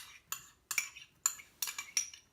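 Seasoned potatoes and onions being mixed in a bowl, a series of about six crisp utensil clinks and scrapes in an uneven rhythm, quiet and close with silence between strokes.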